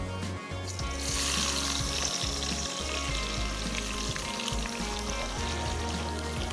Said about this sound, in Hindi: और प्याज को करेंगे सुनहरा।